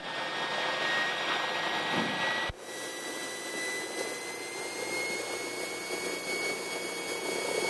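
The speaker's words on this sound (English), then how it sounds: "Cessna 18 Golf is taking off runway 5 for east departure" A Cessna single-engine plane powers up for takeoff from a small county airport runway, a steady loud engine drone with a brief dip partway through before the roar carries on evenly.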